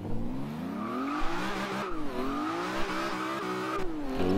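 A BMW launches from a dig in Forza Horizon 2, engine revving upward in rising sweeps with wheel spin and tire squeal, loud and continuous with brief dips as the revs fall and climb again.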